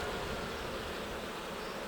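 Honeybees buzz in a dense, continuous hum at an open alpine-style hive of a weak colony, close and steady for the whole moment with no talking.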